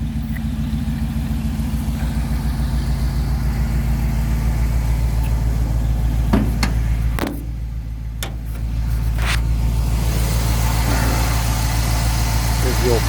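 A 1970 Chevy truck engine idles in a steady low rumble throughout, with a brief dip in level partway through and a few sharp knocks and clicks over it.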